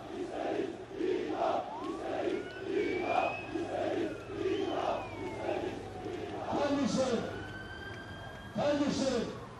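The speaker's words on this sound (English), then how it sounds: "The crowd is chanting, we want," Crowd at an airport gathering for Erdogan chants in repeated rhythmic rising calls, loud and fairly near, with a siren-like wail and shouting threaded through the steady roar.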